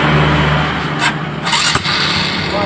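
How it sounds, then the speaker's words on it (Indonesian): A carbureted motorcycle engine is started for tuning, with a running idle, a brief dip and clatter as it catches, then a steady close engine drone. "Kita hidupkan dulu untuk motornya."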